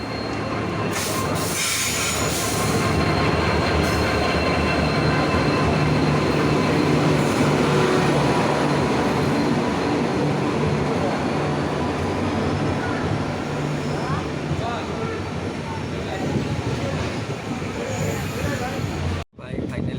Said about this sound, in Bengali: এই দেখছো ট্রেন এসে গিয়েছে